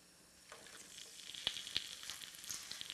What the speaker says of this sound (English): And we got our sizzle going.